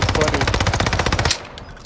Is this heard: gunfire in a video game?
yes